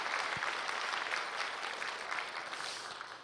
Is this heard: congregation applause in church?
yes